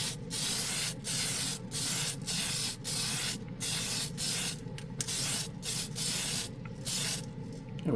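Close spray gun hissing in repeated short bursts, roughly one every half second, with brief gaps between passes, while spray painting a large part.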